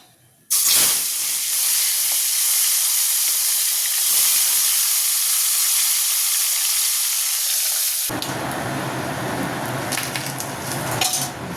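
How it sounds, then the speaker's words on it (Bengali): Fish drops into hot oil in a wok and a loud, hissing sizzle bursts up at once. It stays intense and steady, then turns rougher and crackly near the end, with no voices. "কড়াই তেল বসিয়ে দিয়েছি মাছগুলো ভাজবো"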